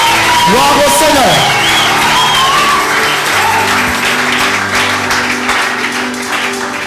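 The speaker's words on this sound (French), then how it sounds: "Acclamons seulement pour le roi des rois." A church congregation applauds and cheers loudly together, sustained clapping and whoops filling the room with a few voices rising over the crowd.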